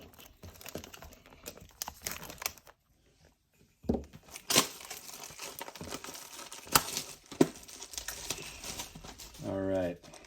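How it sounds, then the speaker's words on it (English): Foil wrappers of Topps trading card packs from a hobby box are ripped and crinkled in scattered, rustling bursts between pauses, close to the ear, with a voice briefly heard near the end. "let's get into this hobby box and rip some packs here"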